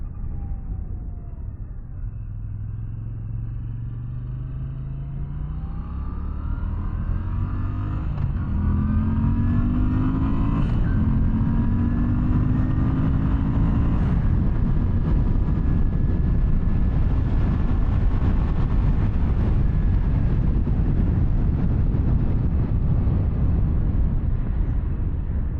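A 2023 Moto Guzzi V9 Bobber SE engine starts and runs nearby, its revs rising and falling through throttle blips before settling into a steady, loud idle rumble.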